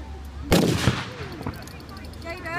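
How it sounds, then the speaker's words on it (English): Gunfire at an armed forces battle re-enactment: one loud, close blast followed by a rapid burst and a fainter later shot, with a long rumbling echo trailing off outdoors. "Still taking a lot of fire from the German position."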